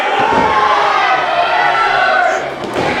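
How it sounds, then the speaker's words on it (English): Wrestling arena crowd roaring and cheering as Kato crawls across the ring, a loud sustained crowd swell with a commentator talking over it. "Crowd getting firmly behind Kato here as he crawls across the ring."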